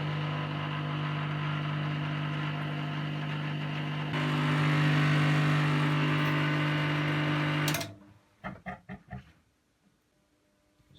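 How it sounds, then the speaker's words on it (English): Washing machine drain pump running with a steady loud hum that steps up partway, then cuts off abruptly, followed by a few clicks and clunks from the machine before near quiet. "There's the pump again."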